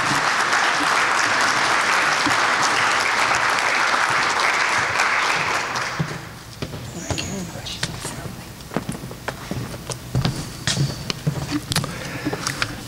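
A lecture hall audience at a university management lecture series applauds steadily for about six seconds to welcome a speaker, then the clapping dies away into scattered thumps and footsteps as he walks up.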